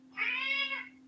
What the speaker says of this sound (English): He talks to me, the cat.